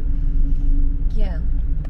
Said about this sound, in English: there are a lot of cars passing by